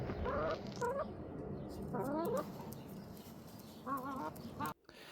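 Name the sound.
silkie chickens clucking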